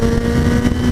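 A 2015 Kawasaki Ninja ZX-10R sport motorcycle engine runs with a loud, steady drone and sustained revving, close and continuous for the whole moment.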